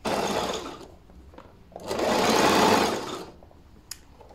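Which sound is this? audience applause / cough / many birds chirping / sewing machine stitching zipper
sewing machine stitching zipper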